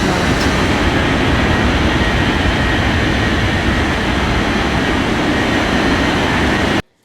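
An aircraft taking off in an air traffic control video game gives a loud, steady roar of engine noise that runs unbroken and then cuts off abruptly at the end.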